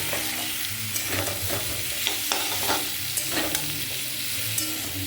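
Potatoes frying with onions, salt, turmeric and chilli powder in a pan, a steady close sizzle broken by repeated scraping stirs of a spatula, with no voices.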